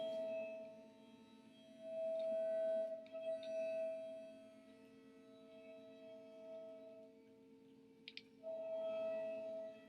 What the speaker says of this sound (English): Sorry for the machining noise in the background.